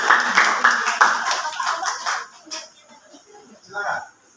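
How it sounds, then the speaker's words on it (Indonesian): Classmates clap for a presenting group in a classroom, a brief scattered burst of hand claps that thins out quickly, with voices speaking over and after it. "Beri tepuk tangan pada kelompok satu."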